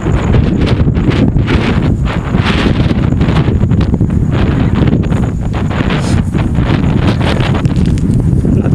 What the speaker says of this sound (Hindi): तेज हवा है कि ट्राइपॉड हमारा हिल जा रहा है।